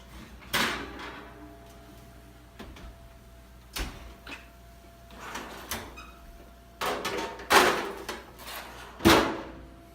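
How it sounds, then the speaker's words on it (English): Kitchen warming drawer being slid open and shut several times, producing short thuds, rolling slides and clacks at irregular intervals, fairly close, with quiet stretches in between. "We're going to remove the chicken and place it into the warming drawer until the rest of the food is finished."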